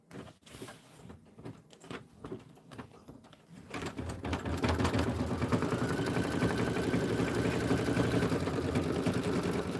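An embroidery sewing machine stitching a flower design starts up, moving from scattered clicks to a steady, loud mechanical whir that keeps going with no speech.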